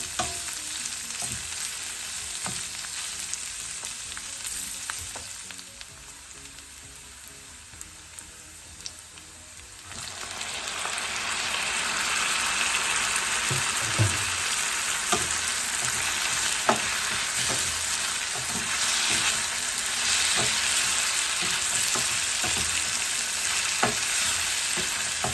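Green chillies hit hot oil in a pan for a bitter melon leaf and shrimp stir fry. A quieter sizzle suddenly swells into loud, steady crackling frying with sharp pops and stirring, and no one speaks.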